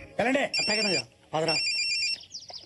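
A telephone rings in a comedy film scene, a repeating electronic ringtone trilling in bursts behind a voice speaking over it, with the ringing continuing between his phrases.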